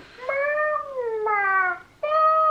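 VTech Little Love interactive baby doll giving three short electronic baby cries and coos, each a wavering tonal wail, close and fairly clear with no talk.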